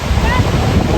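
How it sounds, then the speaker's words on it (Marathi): Ocean surf rolls onto a beach in Goa, a steady, loud wash of waves mixed with heavy wind buffeting the microphone over one continuous second. "लाटा देखो लाटा"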